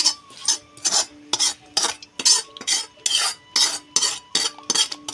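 A metal spoon scrapes and stirs roasted masala together in a pan on a village wood-fired stove, with a quick, steady run of about a dozen rasping strokes, close and clear, no voices.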